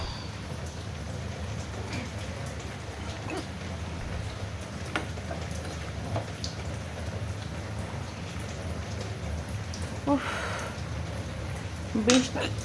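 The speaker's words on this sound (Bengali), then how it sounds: "এই বৃষ্টিটা হচ্ছে, এটা ঠিক আছে" Steady rain falls outdoors, a dense, even hiss of drops that runs the whole time, with a few louder bumps and clatters near the end.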